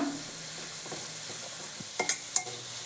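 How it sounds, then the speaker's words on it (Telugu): Chili powder and coriander powder fry in oil for a drumstick curry, giving a soft steady sizzle, with two or three quick sharp clinks of a utensil near the end. "ఆయిల్లో ఇలా కారం అవి వేయించుకున్నామంటే స్మెల్ కూడా ఉండదన్నమాట పచ్చివాసన"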